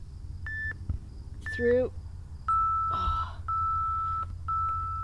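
A workout timer sounds a series of clear, sharp electronic beeps, short tones followed by longer sustained ones, close and distinct over a quiet room while a voice speaks and some brief swooshing noises pass between them.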